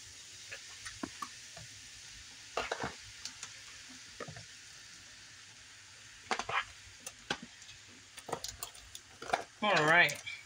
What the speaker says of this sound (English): I'm going to start adding the turkey meat in and start getting that browned up